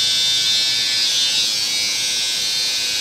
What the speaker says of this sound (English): Clipper over comb, trimmer over comb.